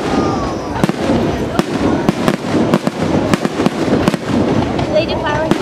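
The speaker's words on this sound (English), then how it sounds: "catch these fireworks before they start going off" New Year fireworks finale bursting over a beach in Naples, Florida: a rapid string of loud, sharp explosions and crackles, with crowd voices and chatter running underneath throughout.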